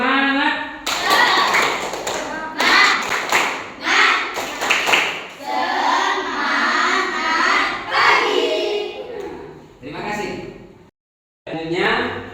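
A school class doing the rhythmic tepuk semangat spirit clap, bursts of many hands clapping in patterned sequences with children chanting and shouting along, loud and close, followed by a teacher talking.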